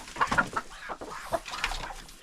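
Several chickens, a rooster among them, cluck and squawk in short, uneven bursts close by, with scattered murmurs of poultry filling the gaps.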